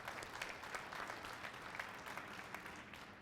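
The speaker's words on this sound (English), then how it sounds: "Let's give him a round of applause." Audience applause at an evening business challenge event, a continuous even patter of many hands clapping with small peaks throughout, quiet and distant-sounding, with no talking over it.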